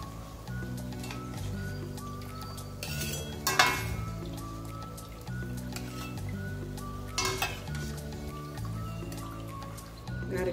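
Gharge, a fried sweet pumpkin-flour snack, bubbling in hot oil on low-to-medium flame with steady sizzling, two sharper bursts of clatter and stirring, and soft background music throughout.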